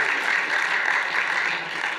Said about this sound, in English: Gabby, everyone, please give Gabby a round of applause.